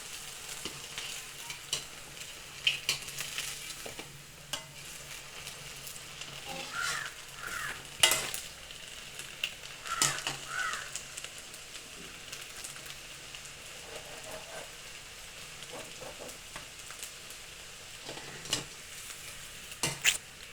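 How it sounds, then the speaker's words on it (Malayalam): Banana fritters (pazhampori) fry in a pan of hot oil with a steady, close crackling sizzle, scattered sharper pops and occasional louder bursts throughout, no voices. "പഴംപൊരി അമ്മ ബാക്കി ചൂടുന്നുണ്ട്."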